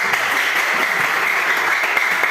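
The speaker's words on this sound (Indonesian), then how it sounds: "Mari tepuk tangan" Classroom applause for a student, a steady, dense patter of many hands clapping together at close range, holding level throughout without talk.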